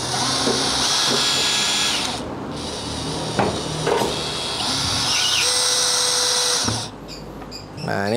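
A DeWalt DCD703D1 12V brushless cordless drill whines steadily at high pitch while drilling, with short pauses and changes in speed, before spinning down near the end.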